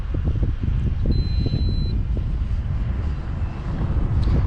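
An RC A-10 Warthog model plane with a Sunny Sky 2216 1400 kV motor flies past outdoors, a steady motor buzz under heavy gusty wind noise, with a brief high electronic beep partway through.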